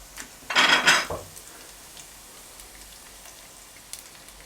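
Olive oil poured into a pan while cooking a Turkish meat and mushroom sauté, a short bright sizzling hiss lasting about half a second, then fading to quiet room tone with a faint tap near the end.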